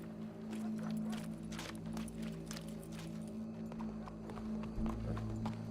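Horse hooves clip-clop steadily in the Red Dead Redemption II video game, a continuous even rhythm over a constant low background hum, with faint voices in the scene.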